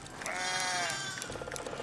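A baby sheep in the village-building game Foundation lets out a single clear, wavering bleat close by, trailing off into soft background ambience.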